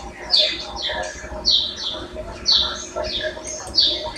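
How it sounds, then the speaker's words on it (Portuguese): A small street bird sings bright, repeated chirps about once a second, fairly close, over a soft background murmur. "Deixa o passarinho cantar."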